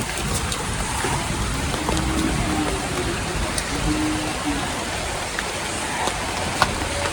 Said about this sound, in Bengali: মাশাআল্লাহ খুব সুন্দরভাবে বৃষ্টি হচ্ছে